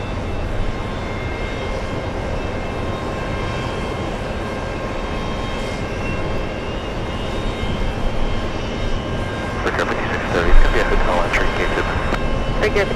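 Jet airliner departing JFK on a flight to Auckland, a steady broad engine roar that swells toward the end, with airport radio chatter and voices over it.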